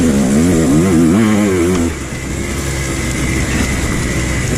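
An enduro motorcycle ridden hard on a slippery trail, its engine loud and close, revving up and down in quick swells before settling into a rough, steady drone.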